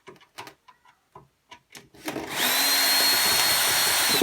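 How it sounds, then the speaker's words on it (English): A powered screwdriver whirs steadily, loud and close, as it backs Phillips screws out of the casing of a Bush DVD player being scrapped, coming after a series of short knocks and clicks. "Now I'm going to do all these Phillips screws."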